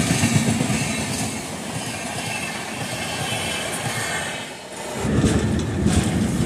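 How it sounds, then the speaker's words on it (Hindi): A passenger express train crosses the Ganges river bridge near Kanpur, rolling slowly with a steady rumble and rhythmic clatter of wheels, dipping briefly before the rumble swells again. "तो भैया स्लोली स्लोली अपनी ट्रेन पार कर रही है गंगा रिवर को"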